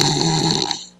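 A man's deep, rattling snore, one long rough breath that fades out at the end, close and loud.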